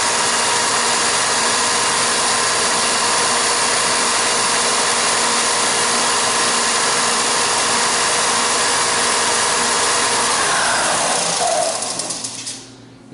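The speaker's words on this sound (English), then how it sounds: "turn on your sander and use the tensioning knob and move that sanding block or the sanding belt in or out" Belt sander running steadily with a loud, even whir and sanding hiss, then spinning down and fading out near the end.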